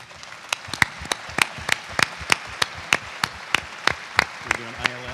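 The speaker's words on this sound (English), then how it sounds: "give them a round of applause" Sparse, steady hand claps from a small press-conference audience in Toledo, sharp individual slaps repeating about every half second, fairly close, with a voice briefly heard near the end.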